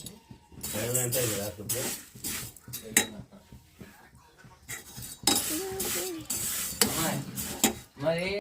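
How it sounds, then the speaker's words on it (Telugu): Semiya (vermicelli) roasting in a pan on a low flame, with a metal spoon scraping and clinking against the pan in uneven strokes while someone talks over it. "ఇంక సేమియా అయితే వేపుకుంటా ఉన్నాం కదా"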